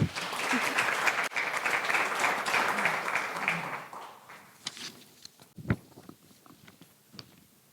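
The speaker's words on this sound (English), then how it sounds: "give all of these ladies a nice warm round of applause" Applause from an audience, loud and dense at first, then fading into scattered claps and a few stray noises.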